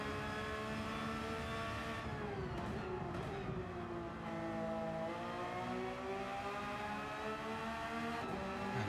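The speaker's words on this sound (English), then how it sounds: "on board with Lyly as we come through in the beautiful sounding Porsche" Loud, steady engine note of a Porsche race car in a racing video game at Watkins Glen, holding a continuous harmonic whine that dips and rises through gear changes and corners, with no talking over it.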